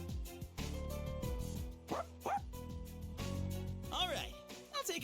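A dog in the Persona 3 Reload video game yips and barks in short bright bursts against game music, with a voice present in the mix.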